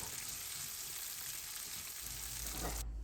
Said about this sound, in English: Saute the chili and garlic for a few minutes